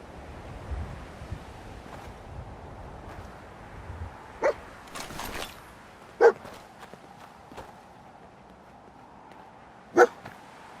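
A dog barks in the video game Fallout 4, giving three or four single, spaced barks over a windy outdoor ambience with occasional rustling.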